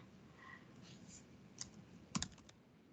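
Fingers type on a computer keyboard, giving soft scattered key clicks at close range with a sharper cluster of taps near the end.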